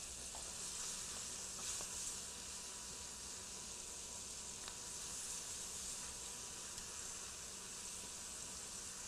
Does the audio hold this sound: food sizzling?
yes